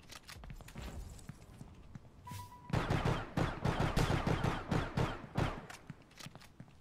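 Rapid gunfire fills a Star Atlas video game match, with bursts of close, repeated shots in an uneven rhythm after a brief quieter stretch and a short tone.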